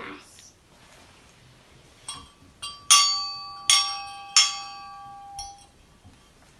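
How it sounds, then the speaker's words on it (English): A bell at St. Peter's church for a Sunday service strikes several clear, ringing tones spaced irregularly, each decaying slowly over near silence, preceded by a few softer taps. "the sound of the bell reminds us that the Spirit of God is within us"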